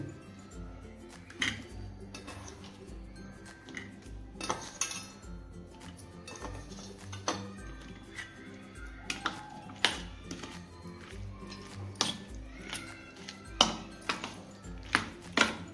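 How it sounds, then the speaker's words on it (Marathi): A spoon scrapes and clinks against a bowl as mushrooms are stirred into a masala, with a steady run of soft metallic taps and knocks throughout, fairly quiet and with no talk. "आता याच्यामध्ये आपण मशरूम टाकू आणि त्याला पण चांगलं मिक्स करून घेऊ."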